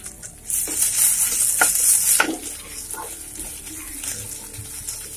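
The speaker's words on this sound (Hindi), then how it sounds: "अब इसमें लहसुन का पेस्ट डालेंगे और इसे भी अच्छी तरह से मिला लेंगे।" Onion and garlic paste frying and being stirred in a pan, a bright sizzle swelling for about two seconds with a few scraping strokes, then settling into a quieter hiss.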